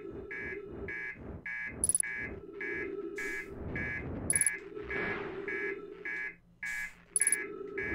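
An alarm in the Outer Wilds video game beeps in a fast, steady, repeating pattern throughout, with a few sharper high chimes in between.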